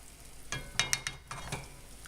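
Tomato paste sauce with garlic and olive oil cooking in a pan for venison sausage stuffed shells, a soft sizzle with several light stirring scrapes and clinks close by.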